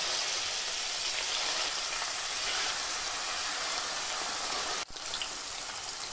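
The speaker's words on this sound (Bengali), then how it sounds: "তেল গরম হয়ে গেলে কেটে রাখা পনির দিয়ে দেব" Paneer pieces fry in hot white oil in a wok, giving a dense, continuous crackling sizzle like heavy rain, loud and close, with a brief dip near the end.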